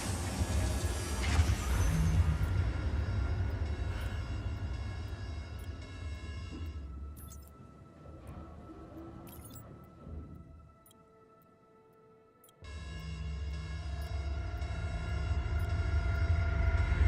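Corsair spaceship flying in Star Citizen, with a loud, steady engine roar and rumble that drops to a quieter hum, cuts out briefly with a few clicks, then swells back to a full, constant roar.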